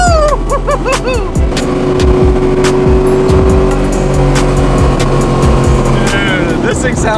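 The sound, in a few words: loud American muscle car engine accelerating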